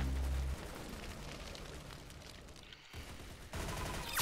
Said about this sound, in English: I can see them shooting.